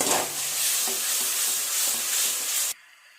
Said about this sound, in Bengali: খুব ভালো করে মশলাটাকে কষিয়ে নেব।